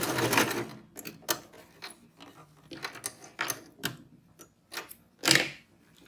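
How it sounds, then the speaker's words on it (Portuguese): A domestic sewing machine runs stitching along the edge of fabric for a cloth wallet, with short irregular bursts of rapid mechanical clicking and whirring separated by pauses, close and fairly quiet. "vamos passar uma costura bem na beirada e depois nós vamos rebater essa costura"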